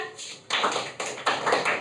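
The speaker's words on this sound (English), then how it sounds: "Can we clap for group 1?" A classroom of students claps for a group that has just presented, breaking into rapid bursts of mixed claps that start and stop, loud and close in a small room.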